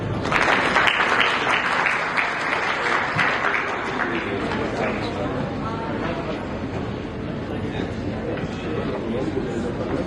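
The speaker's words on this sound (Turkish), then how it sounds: "Güçlü bir alkış alalım arkadaşlar." A crowd applauds at an evening award ceremony, strong clapping at the start that thins and settles into a steady, fuller ripple mixed with voices and chatter underneath.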